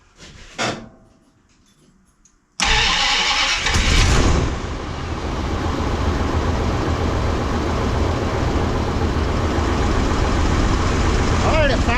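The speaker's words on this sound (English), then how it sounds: "Alright, it fires up." 1958 Dodge Coronet with a 383 V8 and dual four-barrel carburetors cold-starting after a short silence, then settling into a steady, loud, close idle.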